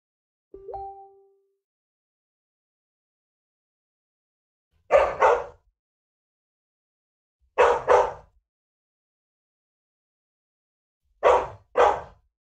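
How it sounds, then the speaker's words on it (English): A dog barks in three distinct pairs of sharp barks spaced a few seconds apart, fairly close and loud against near silence, after a faint brief tone at the start. "Somebody's dog's getting rowdy."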